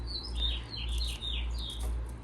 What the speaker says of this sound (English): Ooh, birds are singing.